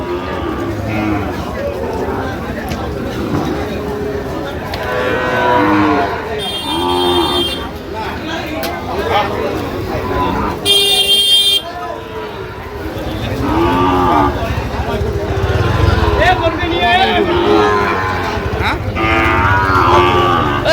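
Young Sahiwal calves and other cattle mooing at a busy livestock market, with repeated loud, drawn-out lows over constant crowd chatter and people talking nearby.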